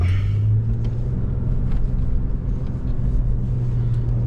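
A Toyota Land Cruiser at full throttle on desert off-road terrain, its engine a loud, steady low rumble with a constant driving drone throughout.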